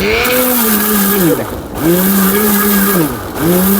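A powerful blender grinds garlic cloves at maximum speed, a loud, close motor whine that sags in pitch twice and then climbs back as the load shifts.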